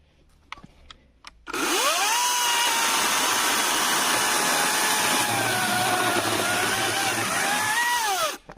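A Vitals Professional AKZ battery chainsaw bites into dry apple wood after a few faint knocks. It holds one loud, steady whine for about seven seconds, the pitch sagging slightly under load, then it cuts off abruptly.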